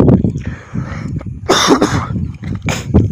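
A person with a cold coughing: several sharp, bursty coughs and throat noises close to the microphone, with brief gaps between them.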